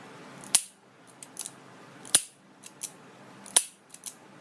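A handgun trigger clicks sharply as the action resets, three crisp metallic snaps spaced about a second and a half apart, each followed by fainter small clicks, close up with no talking.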